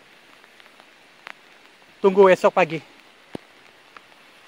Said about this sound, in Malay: lagipun hujan dekat luar ni